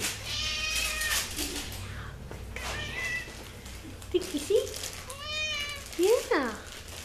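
A cat meows close to the microphone several times, with some calls short and others drawn out and rising, while a person talks quietly in between.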